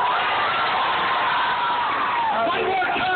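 A church crowd at a Christmas outreach shouts and cheers loudly and continuously, voices blending into a dense roar with scattered whoops rising near the end.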